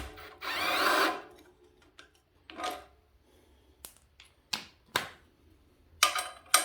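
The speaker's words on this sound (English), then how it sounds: "I'm using impact here" Snap-on impact wrench used on a Simplicity generator attachment: a short buzzing burst, then several brief sharp rattling bursts and clicks with quiet pauses between, close and moderately loud.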